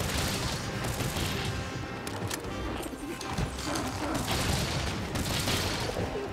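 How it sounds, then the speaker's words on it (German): Rapid bursts of gunfire-like shots ring out from monsters during a Monster Hunter Rise battle, loud and crackling in repeated clusters over constant game noise. "Ja, sie schießen"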